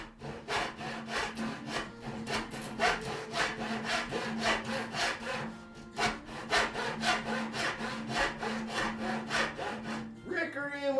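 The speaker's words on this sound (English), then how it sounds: "I think we're going to go back to the handsaw and take some of this down." Handsaw cutting wood on a crosscut jig build, a steady back-and-forth rasp of rhythmic strokes, close and loud with no talk, ending with a brief scrape.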